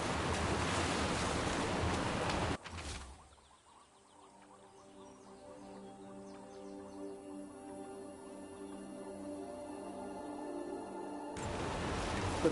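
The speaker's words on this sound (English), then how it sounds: "Look at those waterfalls." Waterfalls in the video game Dragon Age: The Veilguard roar as a steady rushing wash of water, with a brief loud burst of noise at the start and end and a quieter, even flow between.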